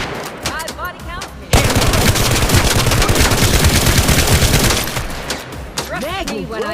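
Rapid automatic gunfire in the Gangstar Mirage City video game, a dense sustained burst of shots lasting about three seconds, loud and close, with game voices heard before and after.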